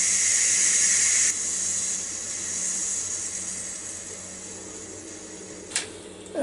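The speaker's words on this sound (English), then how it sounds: "the pressure's been going off of it for two and a half minutes now from the time I hit the vent over here" Steam hisses steadily from the open vent of a Ninja Foodi Deluxe pressure cooker making beef, vegetable and pasta soup, a strong close rush that drops in level partway through, then tapers off with a couple of brief clicks near the end.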